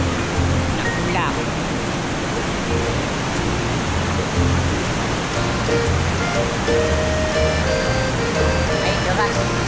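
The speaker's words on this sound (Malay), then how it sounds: "Air deras." Fast-flowing stream water rushing steadily at a forest spot in Sedim, Kulim, Kedah, a broad continuous roar that fills the whole scene with no pauses.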